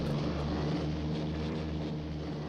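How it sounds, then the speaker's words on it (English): In the video game 60 Seconds Reatomized, an airplane drones overhead as a steady low engine rumble holding at an even, moderate level throughout, with no voices. "I hear a plane going by in the game."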